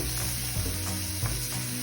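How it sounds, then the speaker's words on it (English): Onions sizzle and crackle steadily in a hot pan, with a couple of soft stirring scrapes over the constant frying hiss. "you need to fry it well because the raw onion taste would not be good"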